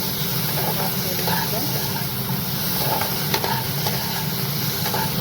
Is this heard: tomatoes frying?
yes